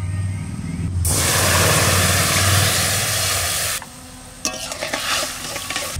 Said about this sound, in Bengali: ফোড়নে দেবে সর্ষে, শুকনো লঙ্কা।